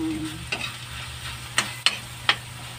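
Ground pork frying in a pan, a steady low sizzle broken by several sharp stirring scrapes of a utensil, close and clear with no talking.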